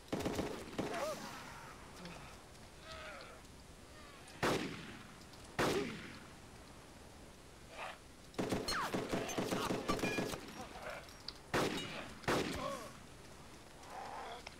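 Gunfire in the video game DayZ Epoch on the Napf map: scattered single shots and short rapid bursts, sharp and fairly close, spread across the clip with gamers talking between them.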